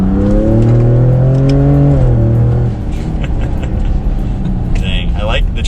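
A Ford Raptor truck accelerates hard in second gear: the engine note climbs loudly, then drops at a gear change and pulls on, with people talking over it.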